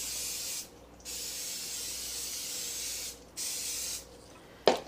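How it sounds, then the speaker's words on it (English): Organic coconut oil cooking spray hisses over spaghetti squash in three close bursts, with short pauses between them and a small click at the end. "I sprayed with some coconut oil, this organic coconut oil spread."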